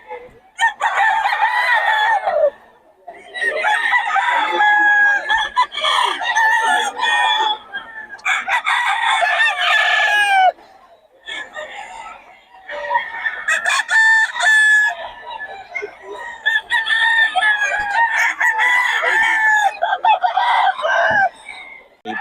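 Roosters crowing repeatedly in long, loud calls, several birds overlapping, with scattered clucking between crows and no pauses of silence for long.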